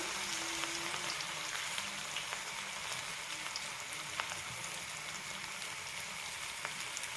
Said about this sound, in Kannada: ಆ ಥರ ಚೆನ್ನಾಗಿ ನಾವು ಅದನ್ನು ಫ್ರೈ ಮಾಡ್ಕೋಬೇಕು.